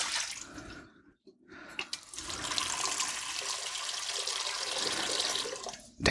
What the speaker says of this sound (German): Darum setze ich jetzt hier gleich schon mal ein bisschen Wasser auf.